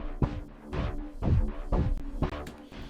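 Two layered synth pulses from Luftrum's Bioscape instrument throb together, a low thudding beat about twice per second topped by brighter distorted swells, close and steady with small clicks.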